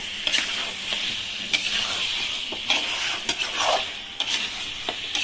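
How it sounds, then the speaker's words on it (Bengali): Chandramukhi potatoes stir-fried with mutton in a pan for mutton kasha, a bright close sizzle punctuated by frequent sharp spatula knocks and scrapes, with no speech. "আলুগুলো দিয়ে একটু ভালো করে কষাবো।"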